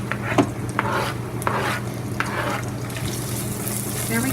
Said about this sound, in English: We'll saute that off a little bit.